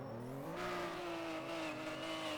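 A car drifting in the rFactor racing game, its engine holding a loud, steady high-revving drone that rises slightly as the throttle opens, with tire noise underneath and no voices.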